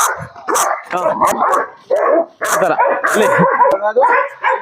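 A Punjabi race dog barks loudly and repeatedly nearby in short bursts with brief pauses, some yelps mixed in, at a dog kennel.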